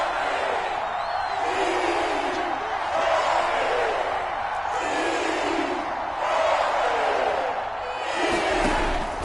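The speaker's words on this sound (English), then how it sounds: "The crowd getting into it as we come up on a big 3rd down." Stadium crowd at an NFC Championship football game roaring ahead of a big third down, a sustained loud swell of cheering and yelling that rises and falls in waves.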